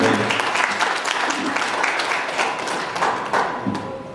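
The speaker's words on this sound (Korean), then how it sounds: "박수 부탁드리니다" Steady applause from wedding guests in Daegu, South Korea, fills the whole stretch, dense clapping at an even level with a few scattered voices mixed in.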